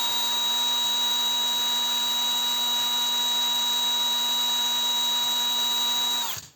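A SharkPro Arctic 190 cordless drill runs at its lowest speed with a steady high-pitched motor whine, close and continuous for several seconds before spinning down abruptly at the end.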